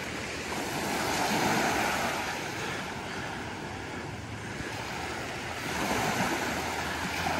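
Ocean surf rolls onto a beach in North Naples, Florida, a steady, broad roar of breaking waves with gentle swells in loudness and some wind noise, no voices.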